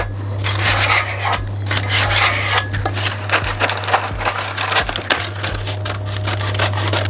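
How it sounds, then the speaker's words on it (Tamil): Baking paper being cut and handled to fit a cake tin for a red velvet cake, giving a run of crisp crinkles, snips and light scrapes over a steady low hum. "இப்போ நான் இந்த கேக் டின்னுக்கு அளவாக இந்த பேக்கிங் சீட்டை கட் பண்ணி எடுக்க போகிறேன்."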